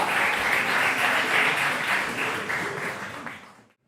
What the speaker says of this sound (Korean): 여러분 박수로 한번 맞아주시기 바랍니다